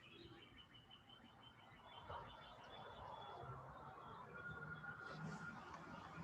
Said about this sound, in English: Like you just hear the birds just like chirping.